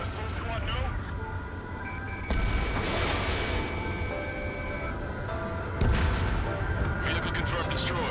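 Artillery and gunfire pound a military base in the combat flight game Ace Combat 7, with heavy booms landing near 2, 3 and 6 seconds over a constant rumble and scattered shots, while voices talk over the battle.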